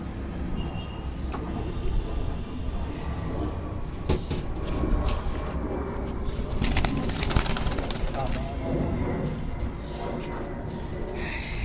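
Pigeons of the Andhra breed cooing in a loft, a steady murmur of soft coos and faint bird calls throughout, with scattered knocks and rustles and a low background hum.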